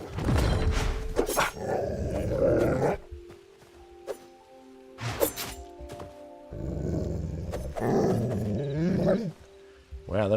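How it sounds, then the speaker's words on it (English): Creature dogs in the video game Hytale give loud growls, snarls and barks in several bursts over about ten seconds, with brief quieter gaps between them. "So we've got another one of those dogs to deal with"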